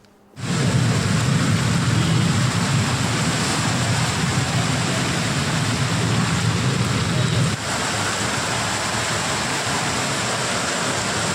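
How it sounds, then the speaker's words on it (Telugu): Heavy, steady roar of torrential rain over a city, loud and constant throughout, with a dense low rumble that eases slightly partway through. "నగరంలోని పలు చోట్ల కుండపోత వర్షం పడుతోంది"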